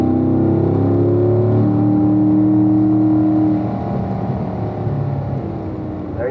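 A car on the Ron Fellows race track pulls hard toward turn one, its engine note climbing in loud, close, sustained tones that ease off partway through, with no voices.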